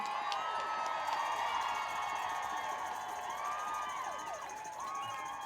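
A large outdoor crowd at a Women's March rally in Montpelier cheers and shouts continuously, with whoops and whistles rising over a steady roar of voices and scattered clapping.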